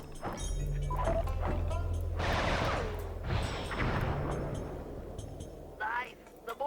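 Firework explosions from an attack in the video game Sly 3: several loud, close bursts and crackling blasts with whooshing tails, set against game music, with a voice speaking over part of it.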